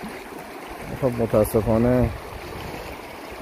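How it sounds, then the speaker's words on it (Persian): Clean water of the Hamideh or Khamdeh river flows with a steady broadband rush and trickle, continuous and close, while someone speaks briefly over it. "این هم رودخانه حمیده یا خمده اگر اشتباه نکنم، رودخانه زیبا با این آب تمیز."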